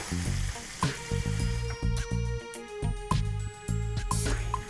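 Shrimp with garlic and pepper stirred around a pan to coat in sauce: irregular clanking spoon strikes against metal over a soft sizzle, close and fairly loud, no talking.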